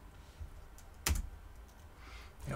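Typing on a computer keyboard while entering code, a few soft scattered key taps with one sharper, louder clack in the middle, close and quiet.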